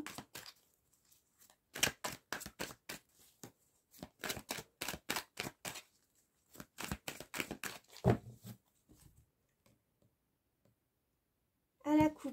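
Tarot cards being shuffled by hand, a series of close, crisp riffling clicks in uneven bursts with short pauses between them and a louder rustle near the end.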